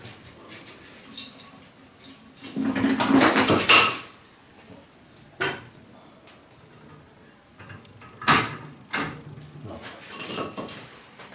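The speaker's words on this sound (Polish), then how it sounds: "w tym garku pukamy." Several separate metallic knocks and clanks on a cooking pot while cooking tomatoes, irregularly spaced, with a louder cluster early on and quieter taps between.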